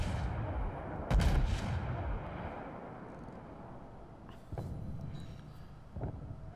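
Heavy naval guns of the battleship Colorado fire in a World of Warships naval battle, a loud booming salvo followed by rumbling decay and a couple of fainter distant reports.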